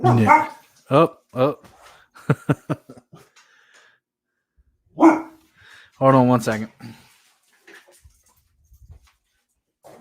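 A dog gives a few sharp barks close by, mixed with whimpering yips, between stretches of someone talking.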